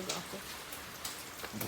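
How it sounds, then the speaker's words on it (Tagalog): Steady heavy rain pours as a constant hiss, with faint voices and occasional louder patters over the continuous wash. "Nag-anam-anam po biya kakusog ang ulan."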